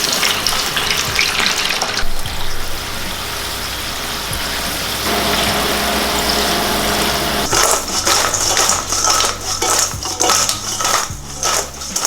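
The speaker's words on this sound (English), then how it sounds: "I'm just gonna fry them off in some canola oil." Potato fries frying in canola oil set to 250 degrees Fahrenheit, a steady crackling, watery sizzle that carries on throughout and turns brighter and louder near the end, with no talking.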